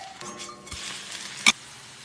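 A piece of food sizzles gently in an oiled pan right after being flipped, a soft steady fry punctuated by a quick metallic clink of the utensil.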